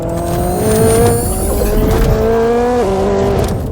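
The flat-plane V8 of a Koenigsegg Sadair's Spear screams loudly on a racetrack, its high revving tone climbing and dropping through quick gear shifts, with some tire noise.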